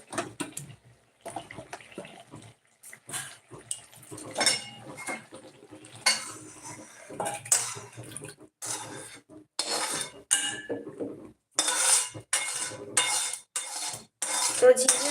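Utensil clinks and scraping of a spatula stirring a Bengali poppy seed dish with ridge gourd in a pan, then the pan taken off the stove; irregular clatter with brief pauses, fairly close, no talking.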